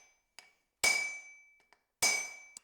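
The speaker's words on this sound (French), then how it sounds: "Les derniers coups de masse sur le corps de la hache." Two heavy sledgehammer blows ring out on a hot axe head being forged, each a sharp metallic strike with a bright ringing tail, separated by about a second, with lighter taps between them.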